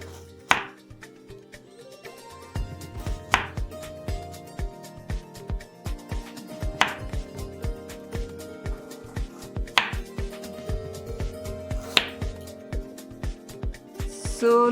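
Mangoes are cut for stuffed mango kulfi, with a knife striking a board in steady, evenly spaced chops, close and clear over soft background music.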